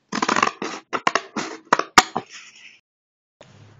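Scissors snip through cardboard in a run of short, crisp cuts, close and fairly loud, each bite sharp with brief pauses between, then quiet with a faint rustle as the craft piece is handled.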